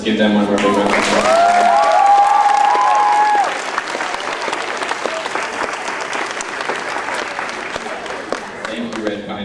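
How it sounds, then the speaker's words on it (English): An audience at an elementary school math competition applauding a second-place team, with dense clapping throughout, a few cheers and whistles over the first seconds, then steadier clapping that carries on to the end. "Let's give them one more big round of applause."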